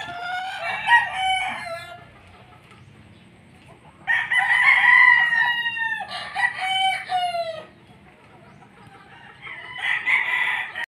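Pumpkin Hatch game chickens crow loudly and close by in several long, drawn-out calls across a farm yard, with clucking in the pauses between crows.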